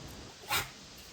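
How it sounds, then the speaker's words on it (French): A dog being handed a treat gives one short, sharp yip or bark, close by and brief, against a quiet indoor background. "je vais donner un gâteau à mon chien"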